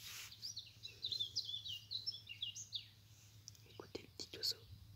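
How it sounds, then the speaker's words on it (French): A small bird chirps and trills in short, bright phrases near a backyard hut, faint and repeated, while soft whispering and low background hum run beneath. "Écoutez le petit oiseau."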